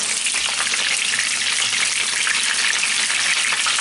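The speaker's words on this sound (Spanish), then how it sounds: "A freírlos, que se frían bien ahora." Red and green peppers frying in a pan, a loud, steady crackling sizzle of hot oil with no letup and no voices.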